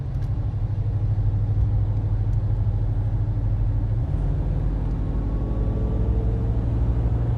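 Steady low engine drone of a 1972 Mercedes 300 SEL 6.3 cruising in fourth gear at constant speed, a smooth even rumble with a slight shift in pitch midway.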